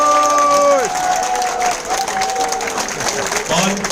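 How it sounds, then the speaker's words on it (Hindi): Enthusiastic audience clapping at a training session in Delhi, a busy wash of hands with scattered cheers, overlaid by a brief electronic tone and voices. "एक बार जबरदस्त ताली वाले सर के लिए।"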